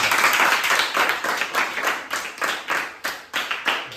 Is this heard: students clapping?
yes